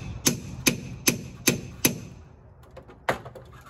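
Five evenly spaced, sharp hammer taps on a treehouse strut screw set in a drilled hole in a tree, each a crisp metallic knock, followed by a pause, a few faint clicks, and one last tap.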